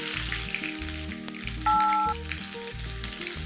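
Mustard seeds and small shallots sizzling in hot oil for a coconut-milk egg curry, a steady loud frying hiss with rhythmic low thumps and a brief tonal ring mid-way, close and continuous.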